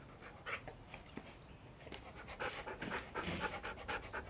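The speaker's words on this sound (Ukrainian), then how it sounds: "а це типа голодна собака." A hungry dog pants quickly and steadily close by, with rapid rhythmic breaths and a few faint whimpers rising toward the end.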